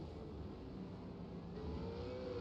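Race cars run on a track, a faint, steady engine drone with a rising whine of acceleration heard at a distance, without voices.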